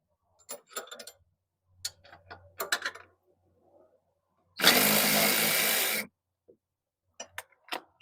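A power tool loosens a 13 mm fastener on a BMW Z3/E36 front sway bar end link: one loud, close burst lasting about a second and a half, with scattered clicks and light tool clatter before and after.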